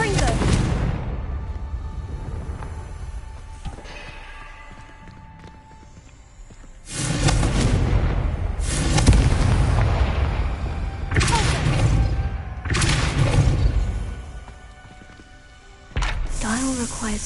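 Confringo fire spell blasts in Hogwarts Legacy erupting as a series of loud, booming explosions, three or four heavy bursts spaced a couple of seconds apart over a low rumbling game ambience.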